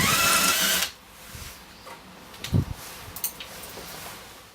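A power drill bores off rivet heads, running loud and steady for just under a second before cutting out, leaving faint scattered knocks and clicks.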